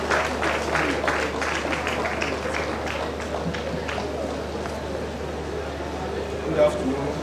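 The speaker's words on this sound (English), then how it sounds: "I thought we keep clapping until he mounts the podium." An audience at an engineering induction and oath-taking ceremony claps steadily and densely throughout, with the sound of the applause staying close and fairly loud and a bustling crowd murmur running underneath.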